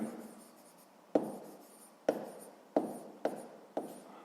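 Pen strokes on paper while working through a sixth-grade maths exercise: a soft continuous scratching punctuated by five sharper taps or stroke onsets spaced roughly a second apart, close and quiet, with no talking.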